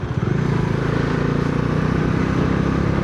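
A motorcycle engine drones steadily and loudly throughout a solo pov ride to Dakshinkali, with a constant rumble and wind noise and no talk.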